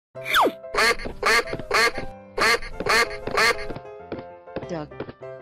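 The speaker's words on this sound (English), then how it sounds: "Duck." Cartoon duck quacking, a run of loud, close, nasal quacks in quick bursts, some stretched and wavering, with no talk.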